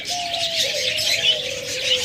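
Pet birds for sale, among them cockatiels, budgerigars, lovebirds and doves, chirp and tweet in a busy, nearby chorus, layered over a sustained, gently falling dove coo, with no voices present.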